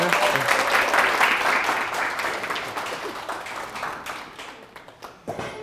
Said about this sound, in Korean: 늘의 강연자이신 사랑과 열정이 넘치고 선언에 대한 애정이 깊으신 장기수 선생님을 여러분들의 박수와 함께 모시도록 하겠습니다.